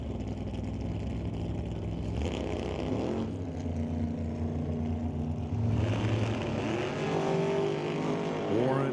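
Super Pro drag race cars at an NHRA Northwest National Open Series event roar down the strip, one engine lifting off the throttle near the finish; loud, continuous engine noise throughout with a shift in pitch partway.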